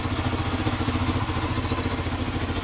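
A Yamaha XTZ 125 motorcycle fitted with an STX 125 carburetor idles close by with a steady, even engine thrum and a slight mechanical clatter, and no talk.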